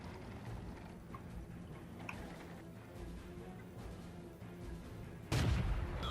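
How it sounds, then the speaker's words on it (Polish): A single sudden, heavy tank cannon blast from a Marder 38T in World of Tanks near the end, rising over a steady low engine rumble and faint game ambience. "I taki szybki strzał."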